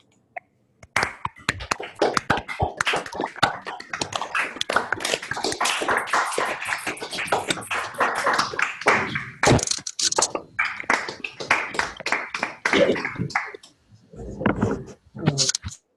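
An online audience, unmuted on a video call after a talk, breaks into scattered clapping from many participants. The clapping is a dense, uneven patter that lasts over ten seconds and then thins out near the end.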